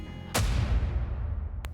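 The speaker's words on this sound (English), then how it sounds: "There was a banging, like someone knocking aggressively on a hard surface on Suga's end of the line" A single heavy bang strikes a hard surface, loud and close, then rings out in a long fading decay, followed by a faint click near the end.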